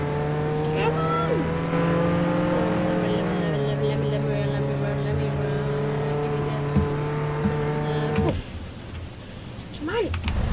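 Roblox Jailbreak car engines roar loudly and steadily, pitch shifting as they rev, before cutting off into softer noise near the end; a voice talks over them.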